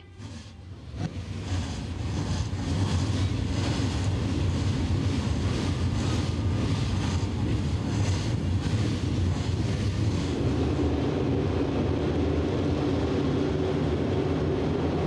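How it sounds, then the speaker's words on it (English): Race car engines roar to life at Wartburg Speedway, a loud, dense rumble starting after a brief lead-in, then holding steady and swelling into a sustained multi-car engine drone with wind buffeting the microphone. "start your engine."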